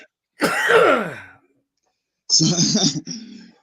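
A man coughs in a hoarse burst lasting about a second, then after a pause lets out a second rougher cough and throat-clearing sound, close and fairly loud with no talk.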